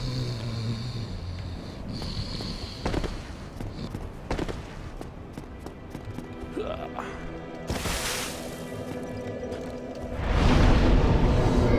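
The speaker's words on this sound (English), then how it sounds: "This pool of water is snoring." A pool of water in the Dark Souls video game gives off a low, rumbling snore-like sound amid game ambience, whooshes and clattering effects, fairly loud and continuous with a swell toward the end.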